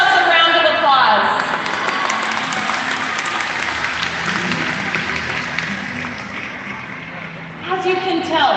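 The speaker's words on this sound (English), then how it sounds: "Let's give ourselves a round of applause." Steady crowd applause from a large stadium audience at a SeaWorld killer whale show, loud and continuous for several seconds, with a voice or tones briefly standing out at the start and end.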